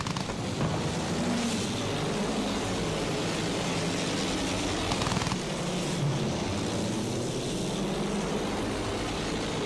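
Aircraft drone through a Battlefield 1 battle, a continuous loud engine roar rising and falling amid rumbling explosions and gunfire, with no voices.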